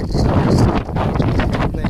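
Strong wind sweeps around a temple in Ooty, blowing steadily and loudly against the microphone as a continuous rough rumble with gusty swells for the whole stretch.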